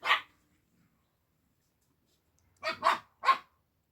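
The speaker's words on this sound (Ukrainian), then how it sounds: "зараз піду успокою собаку" A dog barks once, then after a pause gives three more quick barks, moderately close with quiet between.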